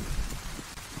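A heavy downpour in the video game DayZ, a dense, steady roar of rain hitting surfaces close by with a low rumbling undertone and no voices.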